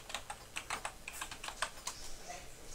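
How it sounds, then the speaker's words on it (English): Quick bursts of close computer keyboard typing, crisp key clicks arriving in uneven clusters and pauses, alone with no voice. "You can type that in."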